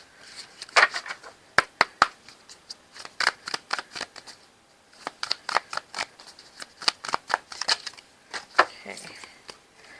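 Tarot cards are shuffled and handled near the microphone, giving a long run of crisp flicks, slaps and riffles in irregular bursts, with a soft pause midway.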